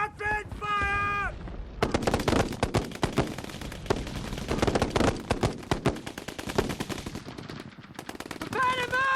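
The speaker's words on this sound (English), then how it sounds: "Rapid fire!" Soldiers fire rifles in rapid bursts, a dense, loud crackle of overlapping shots that keeps going with brief pauses, and shouted voices break in at the start and end.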